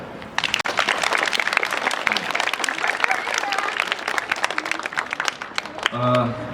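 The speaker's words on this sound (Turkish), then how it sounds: "Murat Hoca'yı alkışlayın" Pupils and staff at a school applaud teacher Murat on the first day back, a loud, crisp burst of many hands clapping for about five seconds before a voice speaks as the clapping stops.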